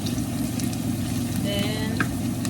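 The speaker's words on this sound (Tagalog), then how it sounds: "With brown the ginger." Ginger frying in a pan, a steady close sizzle with faint crackling, no voices.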